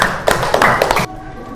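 Brief clapping breaks out among a class, several sharp hand claps in quick succession heard up close before stopping abruptly.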